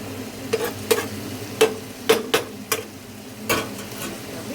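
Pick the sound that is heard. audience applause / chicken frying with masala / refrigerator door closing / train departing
chicken frying with masala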